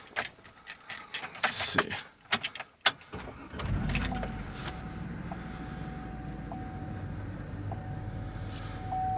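Keys jangle loudly up close, then a Hummer H2 engine turns over and catches, settling into a low, steady idle with a repeating chime overhead; someone says a few words briefly.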